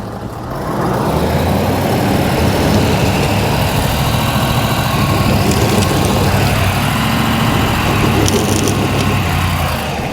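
2023 Ford F-350 Power Stroke dually diesel truck in two-wheel drive working up a dirt obstacle, a loud, close, sustained low engine rumble that holds steady for several seconds after starting, with no talking.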